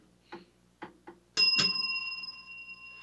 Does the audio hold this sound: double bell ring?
yes